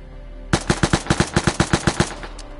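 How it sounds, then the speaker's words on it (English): A Grus gun fires in the video game Vigor: a single sustained automatic burst of about twelve sharp, evenly spaced shots, loud and close, with no talking. "let's test the Grus gun"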